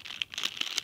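A bag of unfrosted Christmas cookies, a star-printed paper bag, gives close, crisp crinkling in a quick run of rustles and crackles, with no voices.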